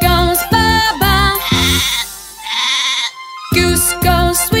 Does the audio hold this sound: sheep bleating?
yes